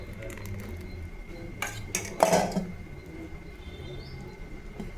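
Metal utensil clinks and scrapes against a pot as ghee goes into a sweet milk and rice payasam flavoured with cardamom, a few bright clatters midway over a low steady background hum.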